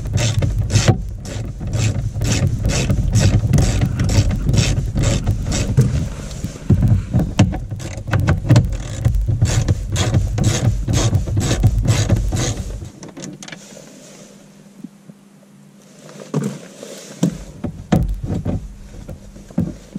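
Ratchet undoing straightforward 8mm bolts on the glovebox of an Audi A3 8P, a fast steady run of loud close metallic clicks that stops partway, followed by a few scattered clicks and handling noises.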